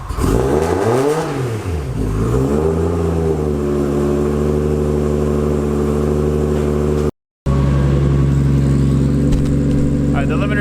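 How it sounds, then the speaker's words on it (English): A Nissan 240SX S14 with an RB25 engine starts and settles into a loud, steady idle with a low rumbling drone and pitch shifts as the revs fall, then a brief cutout before the idle resumes. "Start this car up and let it warm up for a little bit"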